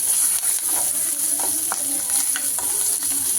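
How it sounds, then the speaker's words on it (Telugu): Mint leaves sizzle and crackle steadily in hot oil in a pan for a mushroom egg biryani, with scraping stirring strokes, close and continuous, no talk. "దీంట్లో ఇట్లా వేసిన తర్వాత ఇది కొద్దిగా వేగుతున్నాయా, తిప్పట్టలని సౌండ్ వస్తుంది కదా, అమ్మో వేగుతున్నాయి"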